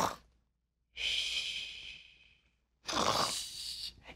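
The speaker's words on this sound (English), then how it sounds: "It sounds like she's snoring." Soft snoring from a sleeping character: two long, breathy, drawn-out snores separated by a pause, faint and close with a hissy, airy texture.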